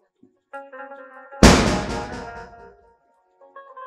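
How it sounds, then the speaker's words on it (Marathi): Firecrackers burst for the Tulsi wedding festival: one sharp, loud bang that decays over about a second, set against faint tonal background sounds. "तुलसी मातेच्या लग्नाचे फटाके आहेत."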